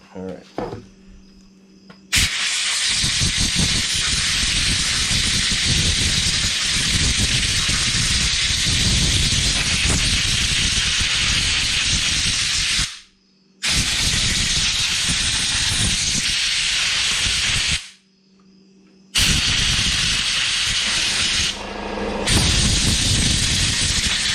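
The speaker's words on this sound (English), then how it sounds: "We'll give the air compressor a minute to catch up." An air compressor runs loud and steady with a broad, hissing roar of air, pausing briefly twice before starting again, in a workshop where a gas-powered Razor dune buggy is being repaired.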